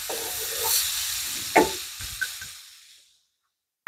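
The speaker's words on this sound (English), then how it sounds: "now I'm going to put the onion in here" Onion dropped into melted butter in a pan, a bright sizzle that flares with a few sharp crackles, then fades away to near silence before a sudden final clatter.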